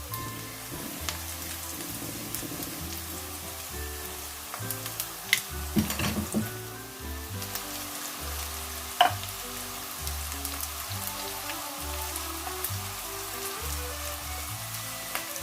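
Broccoli bakwan (bala-bala) fritters fry in a small amount of oil, giving a steady soft sizzle with light crackling bubbles that persists throughout, with a few brief knocks and stirring sounds.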